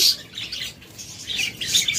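Caged pairs of lovebirds and cockatiels at a bird seller's chirping and squawking in a dense, continuous chorus of high calls, close and fairly loud.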